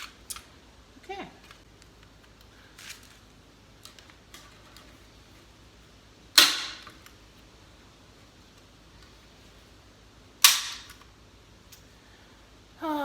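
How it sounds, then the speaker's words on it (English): Staple gun driving staples into a DIY compost sifter, two sharp loud snapping clacks spaced several seconds apart among faint handling clicks and rustles. "I've never had a staple gun that ever seems to work for me."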